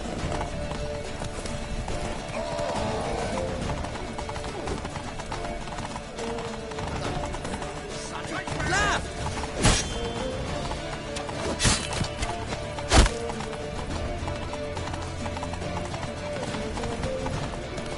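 Horse hooves clip-clop steadily in Witcher 3, with a horse whinnying over the near, continuous galloping and a few sharp louder hits toward the end.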